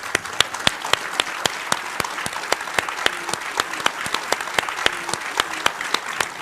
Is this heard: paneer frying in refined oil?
no